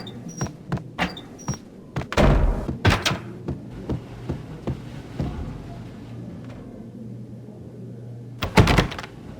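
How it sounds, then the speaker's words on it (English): A locked door is tried in Max Payne: a few sharp clicks, then heavy thumps and rattles as it is pushed and shaken, a low hum underneath, and a final loud knock near the end. "The door was locked. I'd need a key to get through."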